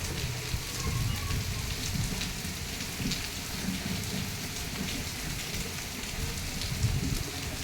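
Steady monsoon rain falling on surfaces nearby, a continuous soft patter with occasional heavier drips, no voices.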